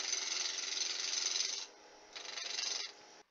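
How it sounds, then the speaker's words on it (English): A bowl gouge cutting wood on a lathe, a steady loud rasping hiss that drops away briefly and then resumes before stopping. "I'm going to go with my bowl gouge"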